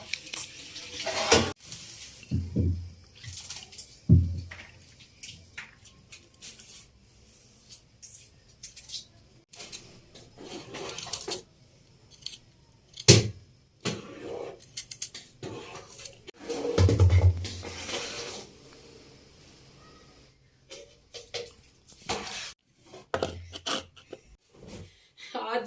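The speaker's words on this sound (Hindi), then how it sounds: "हैदर बर्तन भी धो दोगे?" Dishes being washed under a running tap in a village household kitchen, with clinks of pots and utensils and splashing water coming and going over about 25 seconds while people talk nearby.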